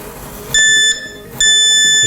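Two short, high electronic beeps from a stud finder passed across a bathroom wall, clear and close, separated by a brief pause.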